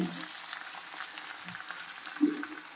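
Mutton and potatoes frying in oil in a pan, a soft continuous sizzle with faint stirring scrapes and a small clunk near the end, quiet and close.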